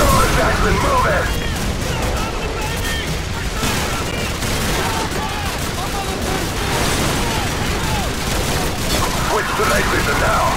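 Sustained covering fire in Call of Duty 4: Modern Warfare, dense rapid gunshots and booms crackling loudly without pause while voices shout over the barrage.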